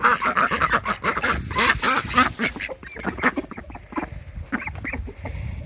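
Several ducks quack loudly and rapidly nearby, overlapping calls in a busy, chattering flock.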